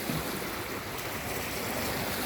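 Strong waves pound during a tropical storm at sea, a continuous loud rush of surf and wind noise with no pauses and no voices.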